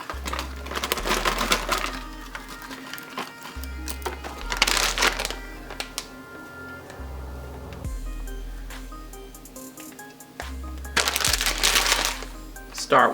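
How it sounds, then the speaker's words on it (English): Frozen hash browns pour and tumble from a bag into a crock pot in several bursts of crackling, rustling clatter, with a low hum running underneath. "So now we're going to layer the ingredients in the crock pot"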